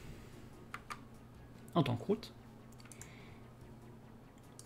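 Brief keyboard typing during a Linux server setup session, a short cluster of close clicks and key presses in the middle, with a person talking around it.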